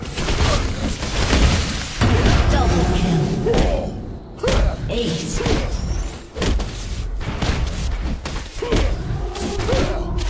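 Turret destroyed on Summoners Rift in League of Legends, a dense run of heavy thuds, slams and crumbling impacts over busy game noise, with an announcer-style voice in the mix.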